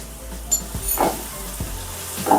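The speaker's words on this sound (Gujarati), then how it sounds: "આ જીરા પાવડર નાખી દઈશ સારી રીતે એટલે સારી રીતે આપણે શેકાઈ જાય બરાબર" Cumin powder and spices roast with tomatoes in a pan for Gujarati suki bhaji, a low close sizzle broken by spoon knocks and stirring scrapes.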